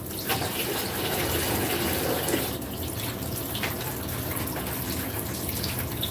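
Tap water runs steadily into a container as water is drawn for a bleach cleaning mix in an office, a continuous broadband gush holding level for several seconds with no talk.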